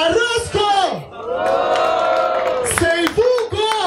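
Crowd at a freestyle rap battle during a hip hop tour event in Caraguatatuba, cheering and shouting with whoops and some clapping, loud and close for the whole stretch, with mixed voices and a sustained cheer in the middle.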